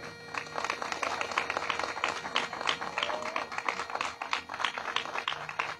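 Applause welcoming the municipal president of Tepeaca at a street repaving launch ceremony, a moderately faint, steady patter of many hands clapping outdoors, with no voices over it.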